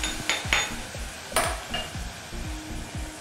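An onion mixture for Yemeni zigni is stirred in a hot pan, with a quick run of rhythmic scraping strokes and utensil clinks over a soft sizzle.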